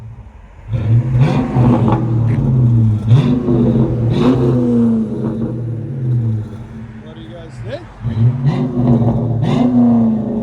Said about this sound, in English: That FLOWMASTER Super 10 sound.